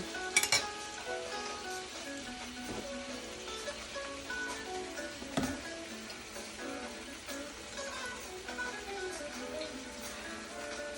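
A pork chop fries with garlic in a pan on a small burner, giving a steady, soft sizzle with occasional pops and clinks, no talking.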